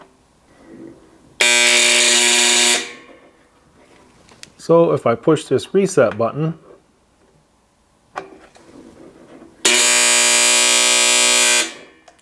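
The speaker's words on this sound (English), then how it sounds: "that annoying buzzing sound is because this was in the storage position" A harsh electronic buzzer from a Costco parabolic heater left in its storage position blares twice in long steady bursts, with someone speaking between them and some clicking in the gap.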